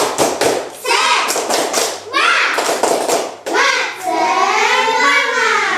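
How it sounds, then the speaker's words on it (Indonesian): Schoolchildren perform a rhythmic spirit clap in a classroom, sharp patterned bursts of hand claps alternating with their chanting voices, loud and close. "Wah, tepuk semangat."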